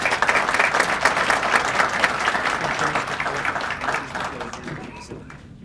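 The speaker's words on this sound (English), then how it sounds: "It was an amazing job, so give him a round of applause." Audience applause at a police awards ceremony, a full room clapping steadily and then thinning and fading toward the end, with some voices mixed in.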